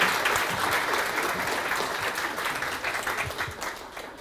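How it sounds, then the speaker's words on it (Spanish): An audience at a Peruvian university constitutional law event applauds Professor Yorka, dense sustained clapping from a sizable crowd that fades slightly toward the end. "Yo pediría entonces un aplauso para la profesora Yorka."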